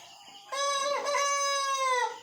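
A single caged rooster lets out one loud, drawn-out crow lasting about a second and a half, close by and alone, after a brief quiet moment.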